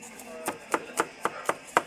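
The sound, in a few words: chopping onion with a knife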